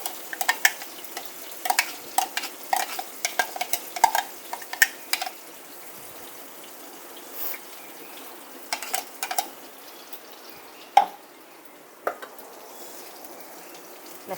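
Garlic and green chillies fry softly in a pan, a faint sizzle under sharp clinks and scrapes of stirring that come in clusters, then grow sparse toward the end.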